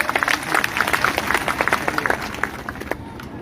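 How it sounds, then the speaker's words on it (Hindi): Crowd at a political rally during a development-tour event in Baldevgarh, Tikamgarh, clapping loudly with dense, rapid hand claps that build and then taper off toward the end, with no talk over it. "एक बार जोरदार ताली बजा दो राहुल भैया के लिए।"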